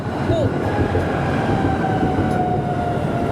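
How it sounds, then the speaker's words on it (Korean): A tram in Hungary rumbles past nearby at night with a steady low roar and a faint high wheel whine, filling the whole stretch. "가끔가다 트램도 지나가지고"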